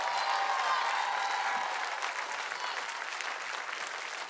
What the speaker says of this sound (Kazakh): Қошаметтеріңіз